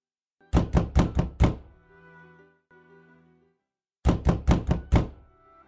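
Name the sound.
knocking on a door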